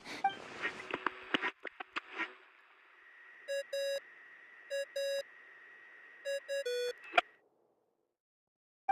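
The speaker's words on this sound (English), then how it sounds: "What's that ringing?" Phone ringing in a video game: a series of short, bright electronic ring bursts in irregular clusters follow a stretch of clicks and a sustained tone, then silence.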